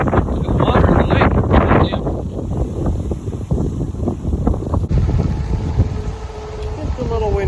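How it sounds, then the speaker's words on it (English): Heavy wind buffets a handheld phone microphone outdoors by a lake with loud, rumbling gusts that roar and surge, then ease into a lighter, breezy hiss near the end. "today it's way too windy outside"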